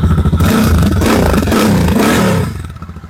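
A secondhand Royal Enfield motorcycle engine roars loudly and close with a throbbing rumble, then eases back toward idle near the end.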